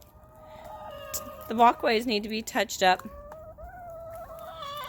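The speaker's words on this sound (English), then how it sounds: "I know these chickens are just following me mostly because they're bugging for food" Backyard chickens cluck and squawk close by in a quick cluster of calls lasting under two seconds as they follow a person around a run with bark walkways, with a short spoken remark and faint birdsong in the background.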